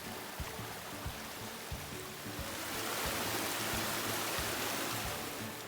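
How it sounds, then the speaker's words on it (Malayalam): Water flowing steadily along a small channel right beside a house, a continuous close rushing wash with faint clicks, swelling slightly louder partway through. "ഈ നാട്ടിൽ ഇതുപോലെ വെള്ളം ഒഴുകുന്ന ഒരുപാട് ചാലുകളുണ്ട്"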